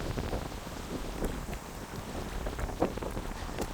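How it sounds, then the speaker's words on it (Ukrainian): Strong gusty wind on the Dnipro River during a bream fishing trip buffets the microphone with a constant rushing roar and occasional louder blasts. "Вітер дуже сильний."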